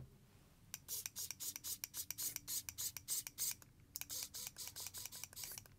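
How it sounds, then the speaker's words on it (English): A Wheeltop EDS TX wireless electronic front derailleur on a bicycle trims in a quick run of short, raspy mechanical whirs and clicks, close and fairly quiet, a brief pause splitting two clusters. "you can hear the front derailleur trimming as well when it needs to"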